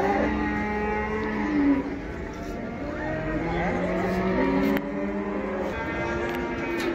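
Cattle at the Taraz livestock market low in long, droning moos that overlap and repeat throughout, close and loud, amid a busy outdoor bustle.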